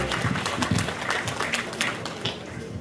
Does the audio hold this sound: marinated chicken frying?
no